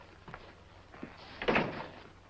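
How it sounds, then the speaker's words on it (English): A door is closed indoors in an old radio-style western drama, a soft creak and shuffle ending in a muffled thud, fairly faint and brief. "Close the door."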